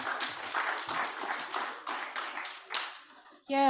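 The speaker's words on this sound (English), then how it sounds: "clap for the winners" Scattered clapping from a small group celebrating quiz winners at a casual community stream, uneven bursts of hands that thin out and fade, followed by a voice starting to talk at the close.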